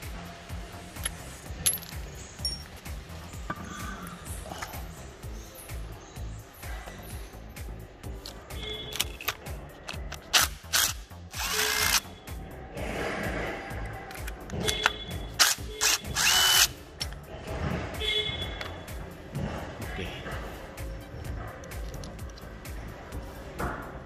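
Power tool and hand tools working on a reach truck's hydraulic pump and motor assembly as they are separated: intermittent drill whirs, metallic clinks and ratcheting, fairly quiet and close, with no speech.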